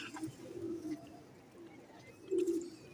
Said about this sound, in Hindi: ये मैर असगर साहब वाले कबूतर और सहारनपुरी कबूतरों का क्रॉस है।